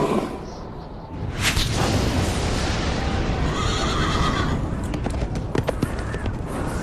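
A white horse neighs loudly in a dramatized Bible reading, a long whinny over a dense rumbling sound-effect background, with hoof-like clatters near the end.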